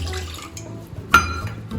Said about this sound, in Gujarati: આ તપેલીમાં આપણે પાણી નાખી દેવાનું છે.